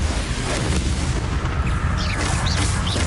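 A Bombarda spell explosion in Hogwarts Legacy, one loud booming blast with a heavy low rumble that fills the whole stretch, with no talk.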